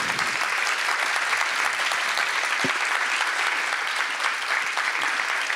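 Audience applause for the two female producers of No Sugar Films at a Kraków film event, a dense, steady clapping that fills the whole stretch without talk.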